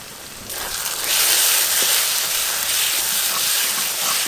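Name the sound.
spice pastes sizzling in frying garlic and onion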